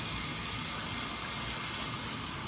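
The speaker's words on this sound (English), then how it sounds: "I'm just going to rinse this out a couple times." Water running steadily from a tap over meat being rinsed, a continuous even rush that fills the whole stretch at moderate loudness with no talk.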